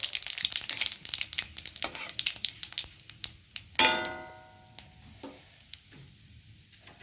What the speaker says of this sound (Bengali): এই ফোড়নটাকে একটু ভালো করে ভেজে নেব